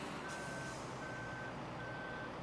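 A truck backing up in the Farming Simulator video game on Xbox 360, its reversing alarm sounding three steady evenly spaced beeps over a constant engine hum.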